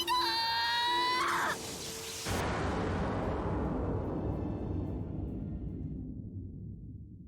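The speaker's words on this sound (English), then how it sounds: "As the sound of Toka's scream rang in my ears" In the Date A Live: Rinne Utopia visual novel, Toka lets out a loud, sustained high scream. It cuts off into a heavy booming burst that slowly rumbles away to silence.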